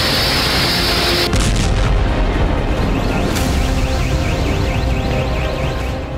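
Explosions from an artillery barrage in the Russia–Ukraine war roll as a loud, dense rumble, with a sudden heavy blast early on and a sharp crack a couple of seconds later.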